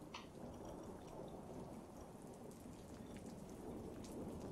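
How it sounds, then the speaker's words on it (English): Steady rainfall with a dense hiss and patter, quiet and continuous, with a low rumble beneath. "it's raining once again."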